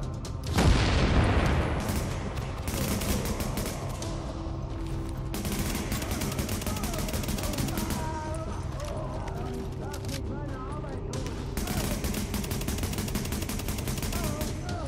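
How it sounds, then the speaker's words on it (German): Gunfire in the video game The Division, with a heavy boom early on followed by dense bursts of shots, impacts and game effects throughout, sometimes with a voice over it. "Schön, wie er gegen die Kiste schießt."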